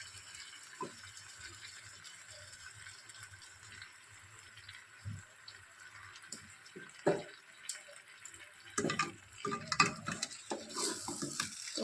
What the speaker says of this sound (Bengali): চিকেনটা ভালো করে কষে নেব মশলার মধ্যে